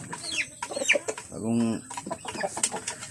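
Chickens cluck in a coop, with one low, hoarse cluck standing out, while someone talks over them.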